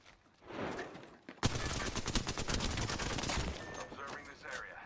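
Apex Legends gunfire erupts after a brief quiet start: a dense, loud fusillade of rapid automatic shots from a firefight, continuing for several seconds before easing near the end, with faint in-game voice chatter mixed under the shooting.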